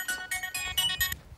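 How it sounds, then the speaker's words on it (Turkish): A telephone rings in a home with a short electronic ringtone, a quick series of bright, evenly spaced chirping pulses, moderately loud and close, with no talk over it. "Ana telefon."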